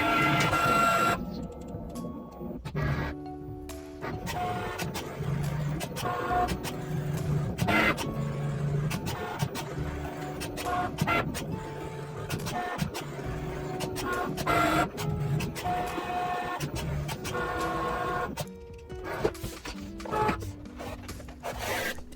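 A Cricut Maker cuts foam interfacing laid on fabric, giving a steady mechanical whir with repeated back-and-forth carriage movements and short stops, close and alone with no talk.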